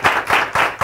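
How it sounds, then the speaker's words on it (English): An audience at a Long Island Filmmakers talk show taping claps in a steady rhythm, four loud bursts in under a second, close and even, with no talk over it. "They're clapping too much."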